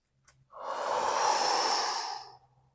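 A single long, deep breath, a broad airy rush lasting about two seconds, close and steady, with no voices.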